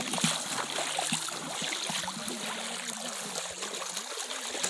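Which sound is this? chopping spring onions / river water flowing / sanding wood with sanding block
river water flowing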